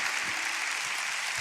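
A church congregation at a Spanish-language service breaks into applause: a steady, dense wash of clapping from many hands that holds at an even level throughout, with no talking over it.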